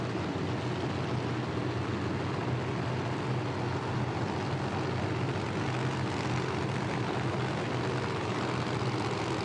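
Drag racing cars at a PDRA Drag Wars event roaring steadily as engines fire up, a dense continuous rumble heard from a distance without talk.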